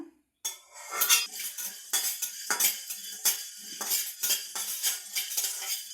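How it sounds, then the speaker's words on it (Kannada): Ingredients for Coorg pork masala are stirred in a pan with repeated scraping and clinking strokes of a utensil against metal, close and fairly loud in an irregular rhythm, with no talking. "ಆ ಟೈಮಲ್ಲಿ ನಾವು ಎಲ್ಲ ಇಂಗ್ರೀಡಿಯೆಂಟ್ಸನ್ನು ಮಿಕ್ಸ್ ಮಾಡ್ಕೊಳ್ಳೋಣ."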